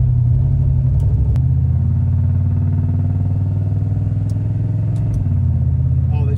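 A turbocharged V8 police car with a manual valve body transmission rumbles at a steady, loud, close idle-to-cruise drone, with a couple of brief clicks from shifting by hand and no talking.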